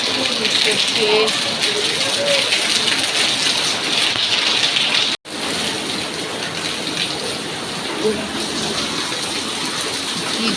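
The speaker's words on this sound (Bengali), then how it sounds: "জোর বৃষ্টি হচ্ছে" Heavy rain pours steadily and loudly, a dense unbroken hiss of drops drumming on surfaces close by, with one brief cut partway through.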